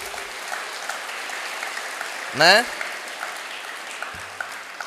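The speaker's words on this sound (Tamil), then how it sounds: "அமர்ந்திருக்கக்கூடிய பெரியோர்களுக்கு ஒரு பெரிய கைதட்டல் தந்து" Audience applause rises as a steady crowd clapping at a school event in Vellore, continuing through the moment with a brief whistle-like tone near the middle.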